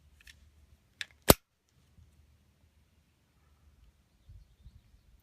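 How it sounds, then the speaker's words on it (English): A pistol slide snaps forward in one sharp metallic clack, preceded by a lighter click and followed by quiet handling noises, with no talking. "drop the slide down"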